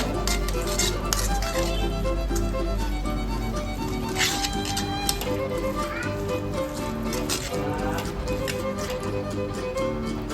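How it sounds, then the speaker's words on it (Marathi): A spoon scrapes and clinks around a bowl while sweet corn, onion and other ingredients are stirred together, in repeated quick strokes close by. Background music plays underneath. "आता हे सर्व साहित्य छानसं हलवून घ्यायचं एकजीव करून घ्यायचं"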